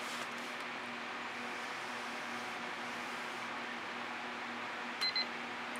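Two short electronic timer beeps sound near the end, over a steady hum of room noise and fan-like hiss in a home acrylic paint pouring workspace.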